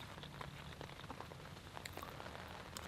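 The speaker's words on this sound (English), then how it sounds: "For the rest of the evening, the rain's going to be hit or miss." Rain patters steadily on a cheap Coleman tent pitched alone in the mountains, a dense close hiss of drops with scattered louder individual hits and no talking.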